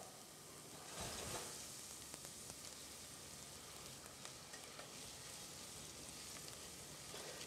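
Garlic fries in a pan before rice goes in, a steady close crackling sizzle with occasional stirring scrapes and no talk.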